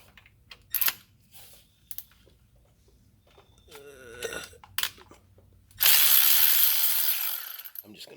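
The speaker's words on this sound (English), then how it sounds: "just start loosening up these bolts" A ratchet loosens 8 mm valve body bolts on a 5R110W transmission of a 6.0 Ford F-350 Powerstroke. Scattered clicks and taps come first, then a short burst of rapid ratcheting, and finally a loud, sustained rasping noise near the end.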